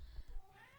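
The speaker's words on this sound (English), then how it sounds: "My cat." A pet cat meows once, a short, faint, close call that rises and then trails off in under a second.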